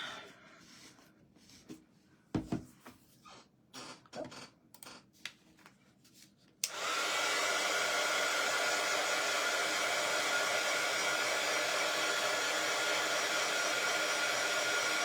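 A hair dryer is switched on to dry paint on a wooden church birdhouse kit, preceded by scattered clicks and handling taps, then a loud steady blowing roar that runs without a break.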